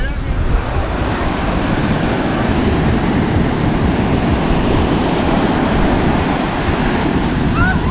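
Powerful surf pounds a Phu Yen beach in Vietnam, producing a loud, unbroken roar of breaking waves mixed with strong wind noise on the microphone.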